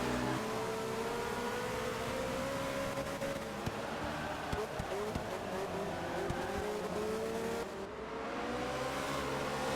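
V8 Supercars race cars lapping a circuit mid-race, a continuous loud engine roar with shifting pitch as cars pass and rev, brief tire noise, no voices.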